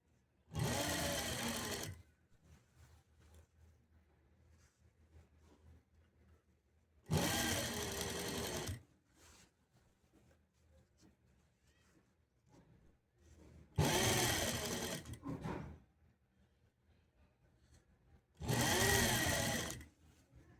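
A sewing machine stitches piping onto a blouse in four separate bursts of rapid, close, loud whirring, each lasting one to two seconds, separated by quiet pauses with faint handling sounds.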